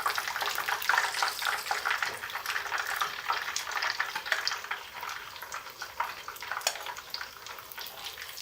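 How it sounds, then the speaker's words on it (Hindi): Peshawari-style chicken chapli kababs, patties of ground chicken, shallow-frying in a pan over low heat, giving a continuous fine crackling sizzle with small bubbling spits throughout. "10 मिनट लगेंगे इसको फ्राई होने में। अच्छे से फ्राई हो गए हैं।"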